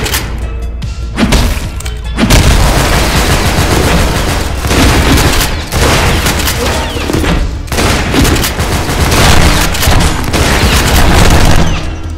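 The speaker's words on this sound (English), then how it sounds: "I think they shot the grenade" Booming blasts and rapid gunfire from combat in the video game Maximum Action, with a grenade going off amid a loud, dense, continuous barrage of shots and thuds.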